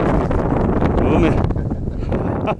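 Strong wind buffets the microphone at an outdoor fishing spot, a steady loud roar with gusting rumble throughout.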